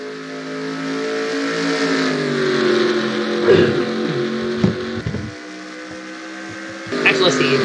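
Stock car engines drone and whine steadily in the NASCAR Racing 2003 sim at Milwaukee, a loud sustained roar with pitch shifts as cars pass, while someone talks over the racing.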